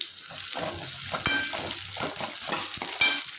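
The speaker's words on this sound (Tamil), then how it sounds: "கடாய் வச்சு எண்ணெய் ஊற்றி கடுகு போட்டாச்சுங்க. கடுகு போட்டுட்டு வெங்காயத்தை போடுவோம்." Onions frying in oil in a kadai with mustard seeds, a close, continuous sizzle broken by stirring scrapes and a few sharp clicks against the pan, with no voices.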